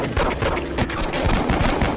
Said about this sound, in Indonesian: Hingga baku tembak pun terjadi.